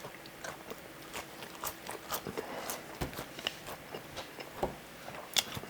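McDonald's fries being eaten up close, with soft crunchy bites and chewing ticking along irregularly over a quiet room background, no talking.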